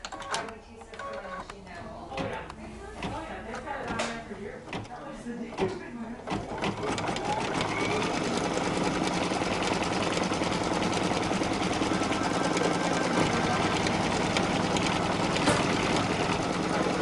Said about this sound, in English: placing that third layer of fabric onto our machine, and we are going to now tack it down